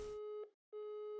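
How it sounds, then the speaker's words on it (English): A telephone busy signal used as a sound in music production: a steady electronic tone in two loud, clean bursts with a short silent gap between them, preceded by a brief burst of broadband noise. "also got these like phone noises"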